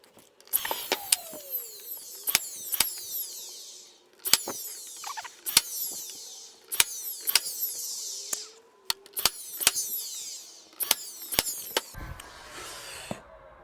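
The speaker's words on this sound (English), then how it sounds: "Next up, I'm just going to glue and brad nail" Brad nailer firing a series of sharp, close snaps as it fastens glued lips onto a wooden wine rack, shots coming singly and in quick pairs with handling noises and short pauses between groups.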